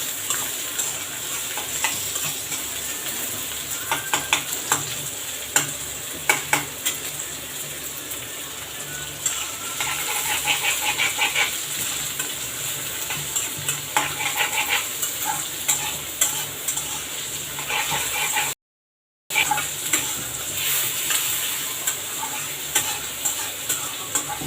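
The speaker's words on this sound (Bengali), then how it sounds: "ঢেঁড়স ভাজিটা একদম সাদা সাদাভাবে করবো। পেঁয়াজ আর কাঁচামরিচ দিয়ে দিলাম।" Okra fries with onion and green chili in a pan while a spatula stirs it. Constant sizzling runs under close, rattling scrapes for the whole stretch, broken once by a short silent gap, with no talk.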